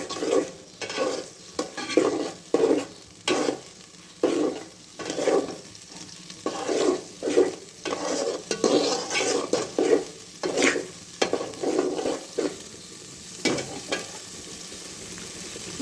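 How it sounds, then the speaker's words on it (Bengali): Spice paste for bhuna khichuri is stir-fried in a pan, with a rhythmic series of scraping stirring strokes about every half second over a soft sizzle, close and distinct, with no talking. "এখন মশলাটা সুন্দরভাবে কষাতে হবে"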